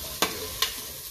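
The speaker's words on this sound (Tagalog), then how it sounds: "So, igigisa po natin yung karne diyan po sa ano, sa" Meat is sautéed in a pan with garlic and chili for Visayan-style adobong puti, a soft continuous sizzle broken by two sharp stirring scrapes, close and moderately quiet with no voices.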